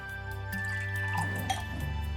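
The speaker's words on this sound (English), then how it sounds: "I'm going to pour some of this into a nice glass" Fermented pineapple tepache home brew is poured from a container into a glass, giving soft, close trickling and dripping splashes over a quiet background.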